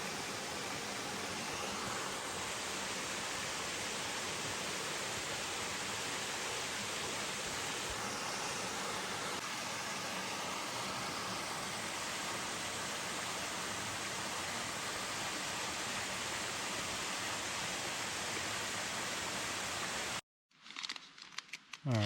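A creek waterfall pours into deep water below, a loud, unbroken broadband rush that holds for about twenty seconds before cutting off abruptly near the end.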